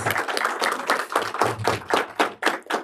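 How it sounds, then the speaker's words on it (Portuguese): An audience at an administration technologists' congress applauds its speakers with a few loud, distinct, uneven claps close by, separate hand strikes rather than a dense roar. "Então, uma salva de palmas para os nossos palestrantes."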